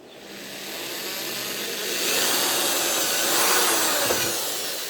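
A power drill bores into the center of a tube for a homemade UHF TV antenna, giving a steady close whirring drone that rises and swells in strength as the bit bites, with no voices.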